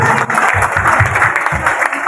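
A loud, dense wash of crowd applause at a church anniversary celebration fills the whole stretch without a break, many hands clapping together close by.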